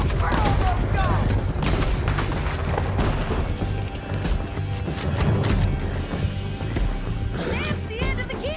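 Gunfire and horse riders in the western game Red Dead Redemption 2: a steady, dense din of shots, crashes and hoofbeats with shouting voices on top throughout.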